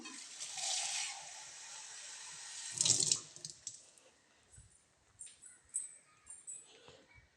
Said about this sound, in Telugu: కొన్ని వాటర్ వేద్దాం